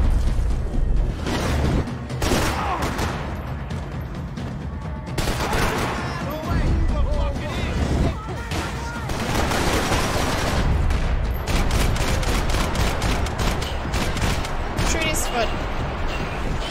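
Heavy gunfire in the video game Max Payne 3, a long chaotic barrage of overlapping shots and booms from several directions with loud bursts and brief lulls, with shouting and talk mixed over the fighting.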